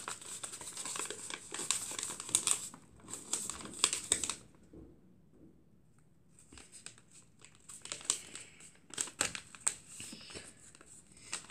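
Paper being folded into a boat gives close, crisp crinkling and rustling in bursts, with a short quiet pause in the middle.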